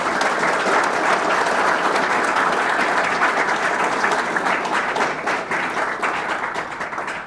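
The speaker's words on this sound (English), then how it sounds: "Round of applause." Sustained, loud applause from an audience at a graduation celebration for a career pathway program honoring electrical and carpentry certifications, dense clapping running steadily throughout and easing slightly toward the end.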